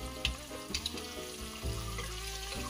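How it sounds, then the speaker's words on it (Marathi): Eggs frying crisp in hot oil with red chili in a home kitchen for egg biryani, a steady close sizzle and crackle with a few brief louder pops and stirring sounds, no talk. "छान आपल्याला असे क्रिस्पी अंडे तळून घ्यायचे त्या तेलामध्ये।"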